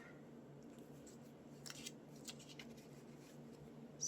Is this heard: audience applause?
no